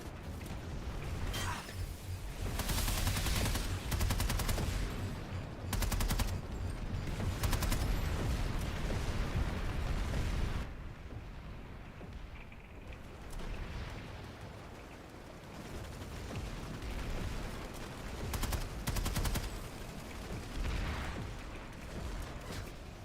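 Distant and mid-range gunfire in PlanetSide 2 during an aerial battle near a mountain, a dense rolling rattle of bursts over a constant engine-like roar with no talking.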